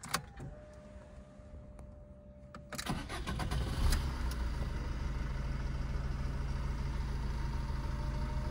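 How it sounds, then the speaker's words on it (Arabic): A 2011 Fiat Punto diesel engine starts up with a sharp crank and settles into a steady, close rumbling idle, preceded by a faint electric whine, with no talking. "سمعوا معايا الضربة د الموتور"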